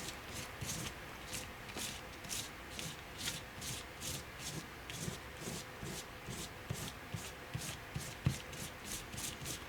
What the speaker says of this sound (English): when I think I got enough paint everywhere, I'll just kind of take it and scrape it across.